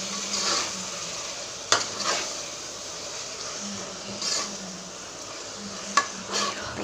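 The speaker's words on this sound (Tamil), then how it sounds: "அதை கிளறி விட்டுக்கலாம்." Food sizzling in a pan for nila sooru, with a steady fry hiss broken by a few sharp utensil knocks and scrapes as it is stirred, close and moderately quiet.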